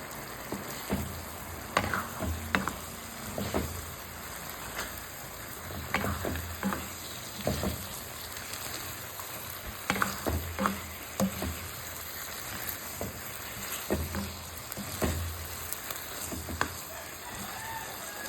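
An egg frying in a pan on a home stove, a continuous close sizzle with intermittent scraping and stirring clicks, while a rooster crows faintly in the background.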